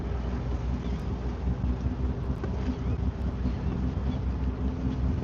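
Stiff wind buffets the microphone while a boat is brought in to dock on Barnegat Bay, a continuous loud low rumble with a faint engine drone underneath and no talk.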